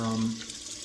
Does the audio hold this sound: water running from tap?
yes